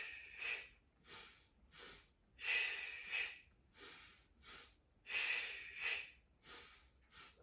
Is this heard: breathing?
yes